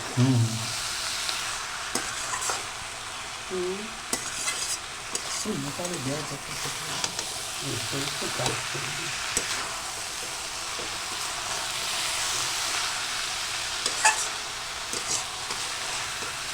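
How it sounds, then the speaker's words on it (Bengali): Shredded cabbage stir-fried with spices in a pan: a broad, continuous sizzle with repeated scraping and stirring strokes, and a voice speaking briefly near the start. "বাঁধাকপি একসঙ্গে ভালো করে মিশিয়ে কষিয়ে নেব"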